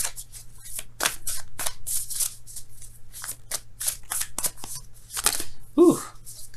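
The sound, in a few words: tarot cards being shuffled and handled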